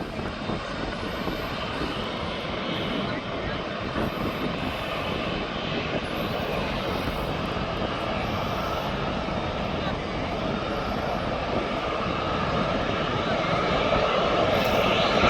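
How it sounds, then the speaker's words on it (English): A Ryanair passenger jet inbound from Lisbon descends toward Birmingham airport, a steady broad engine roar that builds slightly louder toward the end, with no talking. "We've got the Ryanair Lisbon coming down behind the TUI."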